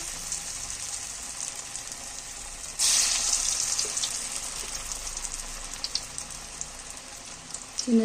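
Masala vada batter dropped into hot oil, frying with a steady bright sizzle that swells louder partway through and keeps crackling close up, with no talking.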